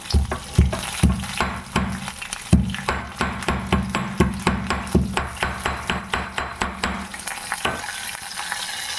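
Bay leaf, a little ginger and green chilli fry in a pan for a cabbage curry, with a steady sizzle under a quick, regular series of knocking taps, close and fairly loud, no talking.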